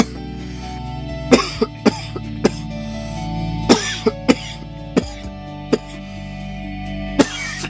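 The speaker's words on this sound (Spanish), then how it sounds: "Ahora tose, provoca la tos con fuerza, provoca la tos." At a church service, several people cough forcefully on command, sharp and separate, spaced irregularly over a low steady hum, at moderate distance.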